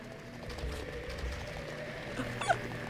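Dog enemies in the video game Silent Hill 3 give faint yips and whimpers, with one short sharp cry rising over a droning, noisy game ambience.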